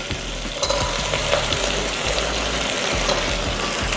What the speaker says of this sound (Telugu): ఆనియన్స్ ఇవి బాగా వేగాలి